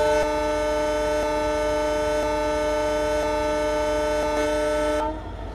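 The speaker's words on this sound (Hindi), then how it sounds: "तो इनकी तरफ से ये पहला हॉर्न" The 12716 Sachkhand Express sounds its first departure horn at Ludhiana station, a loud, sustained, rich-toned blast held for about five seconds before cutting off abruptly.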